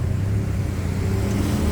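Street traffic on Mahachai Road in Bangkok, a continuous loud rumble of car engines and road noise close by with no voices.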